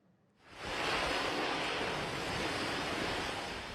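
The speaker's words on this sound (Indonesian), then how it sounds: "Angin kencang menerjang permukiman warga di Klaten yang menyebabkan atap rumah rusak." Strong gusting wind roaring over a residential area in Klaten, loud and continuous after a brief quiet start, with a broad rushing blast that holds steady and eases slightly toward the end.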